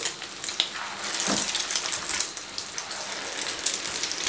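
Egg-coated chicken tikka resha kabab fries in a pan on a lowered flame, giving a steady, close hissing sizzle with faint pops throughout, no voices.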